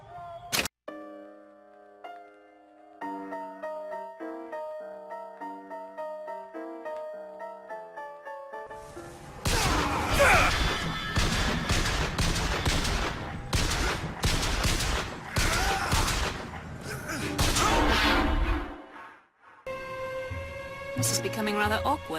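Gunfire in Bioshock Infinite on the hardest 1999 difficulty, dense bursts of shots crackling over game music through the middle of the scene, with tonal music before and after the fighting.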